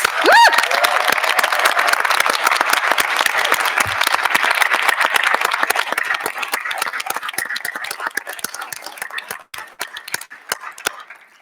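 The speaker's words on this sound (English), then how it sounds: "Let's give a big round of applause for all of our graduates." A large audience at a graduation celebration bursts into sustained, loud applause with some cheering, the clapping continuing densely before thinning to scattered claps near the end.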